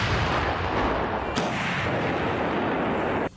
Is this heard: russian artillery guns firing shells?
yes